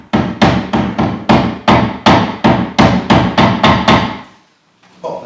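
Glued wood pieces being tapped into a door frame: about a dozen firm, evenly spaced hammer blows on wood in a steady rhythm, close and loud, then a brief pause and one more knock.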